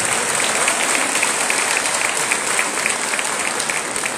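Loud, sustained applause from a crowd at a municipal inauguration ceremony in Tepeojuma, dense rapid clapping that stays even and close from start to finish.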